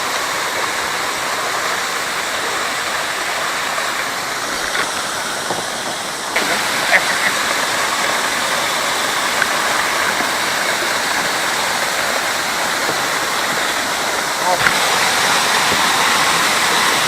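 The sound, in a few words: cascading waterfall on Green River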